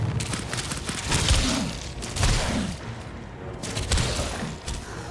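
Rapid-fire weapon shots in the game Dragonkin: a dense, continuous crackle of repeated blasts with low thumps, steady and loud throughout with slight swells, and no talk.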